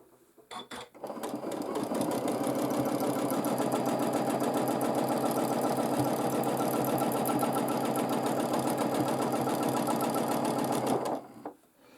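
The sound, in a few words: sewing machine free motion quilting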